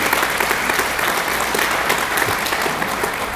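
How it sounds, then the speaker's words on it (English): Steady, dense applause from a crowd fills a candidate forum for Texas Agriculture Commissioner after a closing statement, loud and continuous throughout with no voices over it. "Let's give a round of applause for your closing statement."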